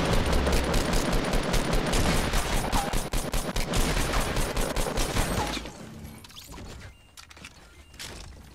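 Rapid automatic gunfire in the video game Fortnite Battle Royale, a dense, loud burst of repeated shots for several seconds that then cuts to quieter, scattered game sounds.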